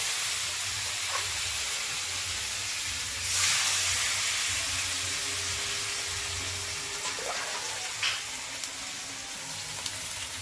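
Water poured into a pan of fried spice masala for a rohu fish curry gives a steady close hiss and sizzle, with a brief louder surge of steam partway through, then a simmering bubble.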